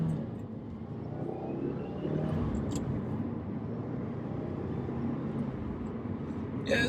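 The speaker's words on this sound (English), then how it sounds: "see me try to give it some gas." Engine of a 2017 Subaru WRX revving from the factory exhaust, a steady low rumble that swells slightly, recorded close without talk.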